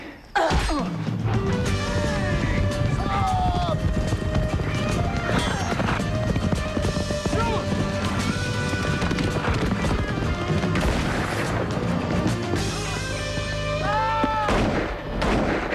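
Rapid galloping horse hoofbeats in a dense video game soundscape, with music, shouts and gunfire-like bangs crowding around them; people talk over parts of it.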